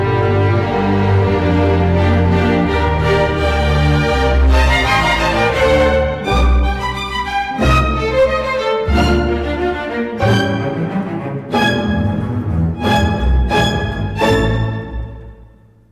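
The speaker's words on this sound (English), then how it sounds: "Together, the string section sounds like this." An orchestra's string section plays together, full sustained chords alternating with short punchy accented stabs and brief pauses, loud and close before tapering off at the end.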